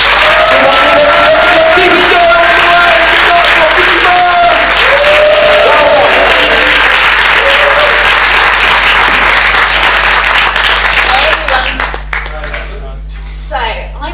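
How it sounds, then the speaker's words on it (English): Comedy science night audience in a club breaks into loud, sustained applause with some cheering, which fades out near the end and leaves a low hum. "I want you to start the applause."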